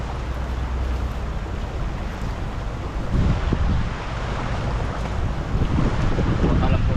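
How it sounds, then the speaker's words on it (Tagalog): A constant loud roar of water rushing at a dam after days of rain, broadband and unbroken, with rumbling surges and some wind buffeting the microphone. "Medyo malakas po yung lagaslas ngayon ng ano, ng dam."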